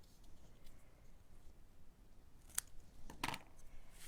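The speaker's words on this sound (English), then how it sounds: "We'll trim the ends just a little bit." Scissors trim the ends of a paper greeting for a handmade card, two quick crisp snips close by over a faint quiet background.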